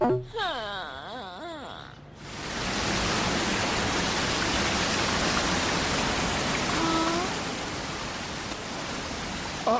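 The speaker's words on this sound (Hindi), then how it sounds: "इस झरने के ठंडे पानी को सर पर गिरने दो।" A cartoon waterfall pours in a steady, loud broadband rush after a brief voice at the start, continuing unbroken for several seconds with a faint tonal wail partway through.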